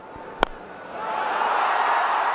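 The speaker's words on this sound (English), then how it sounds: "You can hear that cheer in the crowd." A cricket crowd at an England versus India one-day international cheers as a batter hits back-to-back boundaries, the roar swelling from a low murmur into a sustained, broad wash of distant voices after a single sharp knock.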